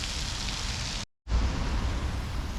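Rain falling during a windy walk along a town waterfront, a steady close hiss of drops and gusts that cuts out briefly for a moment before resuming just as dense, with no voices.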